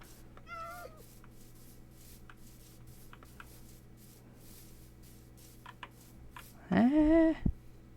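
Cats in the video game Minecraft meow over a quiet background: a short high mew early on, then a louder, drawn-out meow near the end, with faint clicks and rustling between them.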